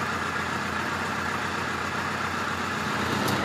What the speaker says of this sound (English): The engine's not warmed up yet.